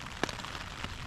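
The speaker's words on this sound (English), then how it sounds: "Hopefully this rain will let up" Rain falls on a tent on the Appalachian Trail as a soft, steady patter with one distinct louder drop near the start, faint and without talk.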